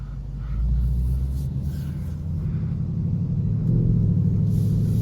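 A Ford Mustang Mach 1 V8 pulls away with a deep, steady low rumble that swells slightly as it accelerates, heard from inside the car with no talking.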